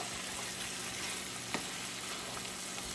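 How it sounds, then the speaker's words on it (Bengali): Chickpeas with tomato sauce frying in a pan, a dense continuous sizzle close by with one brief stirring scrape, no voices. "এটা আমি এখন ভালোভাবে নাড়বো আরও দুই তিন মিনিট এটাকে আমি ভেজে নেবো"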